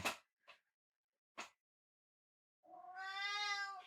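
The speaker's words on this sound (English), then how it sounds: "What are your motivations for all that meowing?" A few short soft taps, then a single drawn-out, clear cat meow rising and holding, heard close in an otherwise quiet room.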